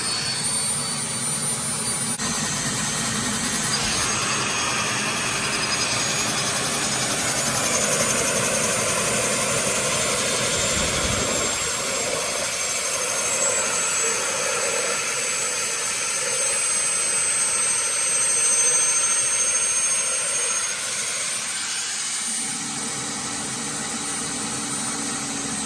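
A Starwood Lama turbine engine runs up with a loud, continuous jet roar and high whine that holds steady, easing off slightly near the end.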